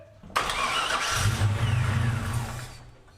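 1978 Pontiac Firebird V8 cranks and catches, then runs briefly and roughly, struggling to hold an idle before fading.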